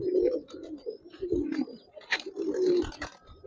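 Giribaz and coloured pigeons coo in low, rolling warbles that swell and fade in overlapping bursts, several birds calling close by.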